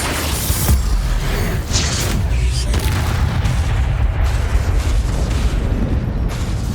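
Confringo and other spells cast in Hogwarts Legacy produce loud, continuous booming explosions with rumbling low-end impacts and crackling bursts, layered densely with no gaps and no talk.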